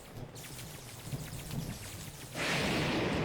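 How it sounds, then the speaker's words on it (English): Steady rain falls in Breath of the Wild on Master Mode, with low rolling thunder from a lightning strike beneath it. The rain then swells into a loud, close downpour for the last second, with no voices. "Thankfully, the lightning strike doesn't wake him"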